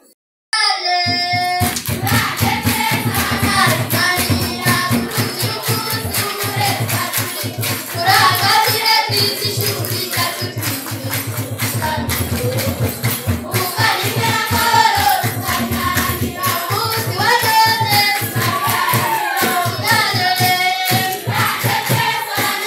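A crowd gives rhythmic, sustained applause to welcome Radio Maria and Kinyamateka journalists at a Nyundo Diocese Catholic education week closing ceremony, loud, dense hand claps continuing for the whole stretch with voices mixed in.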